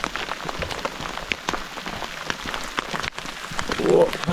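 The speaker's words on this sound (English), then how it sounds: "Get cover, this is big hail." Large hailstones pelt the ground and gear around hikers on a trail in a national park, a dense continuous patter of sharp clicks and taps, with faint voices mixed in.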